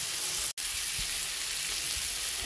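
Coriander powder, salt and turmeric fry in a pan with a brief, even sizzle, interrupted by one instant of silence near the start.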